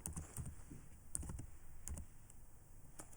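Quick, irregular keystrokes on a computer keyboard while a database query is being named, with clustered clicks throughout and no speech.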